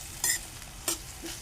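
Vegetables and onion being sautéed with turmeric in a pan, two short scraping stirs over a faint background sizzle, close and alone.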